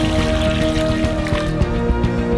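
Four litres of water pour into a large pan set on a burner over thirty kilograms of sugar, making a loud continuous splashing stream with a steady low hum beneath it and no talking.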